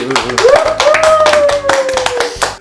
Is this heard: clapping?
yes